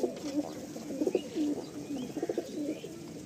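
Breeding pigeons in coop boxes coo steadily and close, with repeated low rolling calls overlapping through the whole stretch and a few faint higher chirps.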